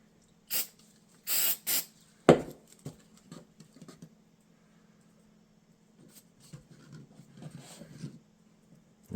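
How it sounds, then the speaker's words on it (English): Several short, sharp hissing sprays of glue activator on laser-cut dice tower parts, a few bursts in quick succession, then scattered quieter rustling and handling noises with a low steady hum underneath. "you can spray it with some activator"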